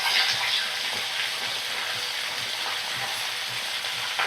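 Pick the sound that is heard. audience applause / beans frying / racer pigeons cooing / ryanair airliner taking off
beans frying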